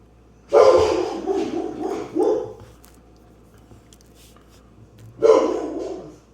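A dog indoors barks in loud, close bursts, two quick barks and then one more after a pause, with quiet room noise between them.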